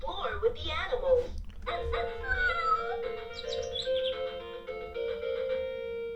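A VTech Turn and Learn Driver toy plays an electronic puppy bark amid chirpy synthesized voice and sound effects, fairly close and moderately loud.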